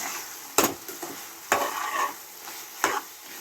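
A spatula stirs pumpkin palya with chilli and coriander powder in a pan. Three distinct scraping strokes rise over a gentle background sizzle, close and clear.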